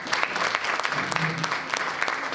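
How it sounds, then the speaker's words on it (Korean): A lecture audience applauds to welcome a member of the National Assembly at a regional forum in Korea, brisk clapping from a moderate crowd with distinct individual claps popping above a steady wash. "여러분 큰 박수로 최재성 국회의원을 모시겠습니다."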